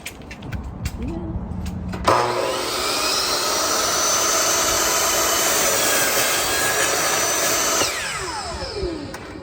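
A saw cuts through a wooden shelf in a loud, continuous grinding whine for several seconds, preceded by brief quieter sounds and trailing off at the end.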